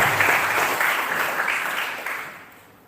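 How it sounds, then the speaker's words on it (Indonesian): An audience gives Soekarno a round of applause during a talk, with moderately loud, scattered clapping that swells briefly and then fades away within a few seconds. "Boleh dong tepuk tangan untuk Soekarno"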